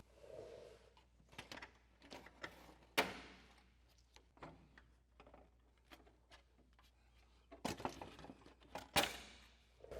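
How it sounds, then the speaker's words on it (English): Plastic trim panel being pried off a 2015-2017 Ford F-150 front bumper with a trim removal tool, heard as quiet scattered clicks, taps and sharp snaps of clips releasing close by. "All we're gonna do is pry that away with the trim panel removal tool."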